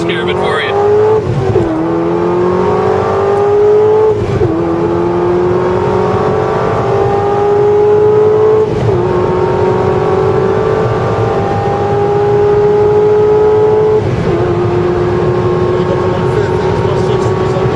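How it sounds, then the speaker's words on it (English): A car launches at wide open throttle from the clutch with launch control, its engine heard close and loud, pitch climbing steadily through several gears with brief drops at each shift. "You step off the clutch. Perfect launch."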